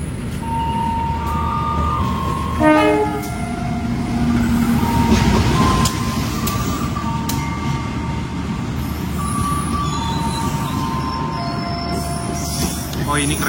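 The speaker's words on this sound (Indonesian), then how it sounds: "Oh ini kereta lokal" A local train of the Bandung line, the Walahar, rumbles past close by with a loud, steady roar of wheels and carriages, and brief squealing tones ring out over the continuous rolling noise.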